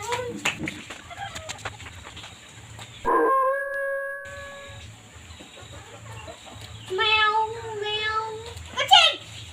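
A cat-like meow sound effect plays in an animal-sound guessing game, a rising harmonic call near the end that follows a steady electronic tone, with people talking throughout.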